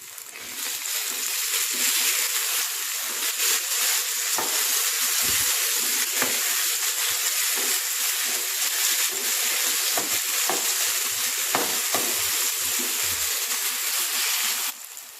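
Chopped tomatoes frying in oil with browned onion for Indian dal tadka, a steady, close hissing sizzle that runs almost the whole time, broken by occasional soft stirring scrapes and clicks.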